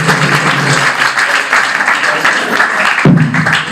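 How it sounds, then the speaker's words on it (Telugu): Crowd at a wedding celebration clapping steadily and densely throughout, a continuous wash of hand claps at close range with a brief shift near the end. "చప్పట్లు కొట్టండి, సంతోషంగా ఉన్నారని."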